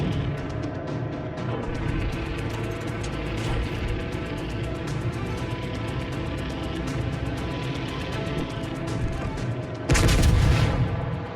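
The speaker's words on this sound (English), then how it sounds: "Quick pot shot at the Friedrich de Gross, just in case he wants to give up some damage." Naval guns firing in World of Warships: Legends against the battleship Friedrich der Grosse, a steady rumbling battle din with a sharp, loud salvo blast near the end.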